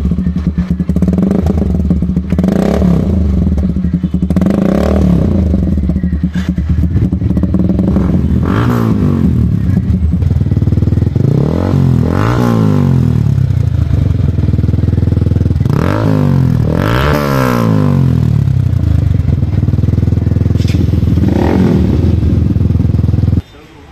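Modified two-wheelers with altered loud silencers, revving engines roaring close and loud, rising and falling in repeated bursts with clattering, while people talk throughout.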